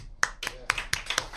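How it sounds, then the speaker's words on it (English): A single person claps by hand, about seven sharp, close claps in a loose, even rhythm, heard alone. "I'm going to clap."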